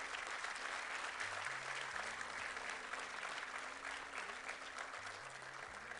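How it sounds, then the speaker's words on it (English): Steady audience applause fills a hall at an annual convocation ceremony, a continuous dense clatter of clapping lasting several seconds, with a low sustained musical tone wavering underneath. "Can we have a round of applause for them,"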